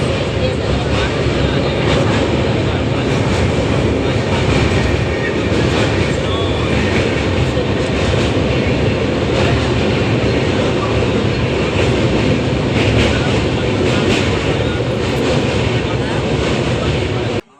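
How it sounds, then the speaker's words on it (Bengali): Train running into Bardhaman Junction, heard from inside a crowded general coach: a loud continuous rumble of the carriages with rattling and clatter over the rails and a murmur of passengers throughout. "আমার ট্রেন এখন চলে এসেছে বর্ধমান জংশন"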